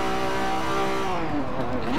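A factory elite race car in Forza Motorsport 7 accelerating hard, engine roaring with rising pitch through the gears, loud and continuous.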